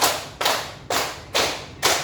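A classroom full of people claps in unison during an ice-breaker game: five crisp, evenly timed claps in a steady beat, close and fairly loud, with short quiet gaps between them.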